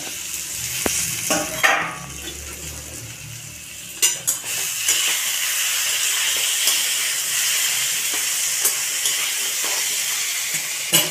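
Water lily stems simmering with a sizzle and steady hiss in a pan on a medium flame, the lid lifted with a few sharp metallic clinks and stirring scrapes over continuous bubbling, close and moderately loud.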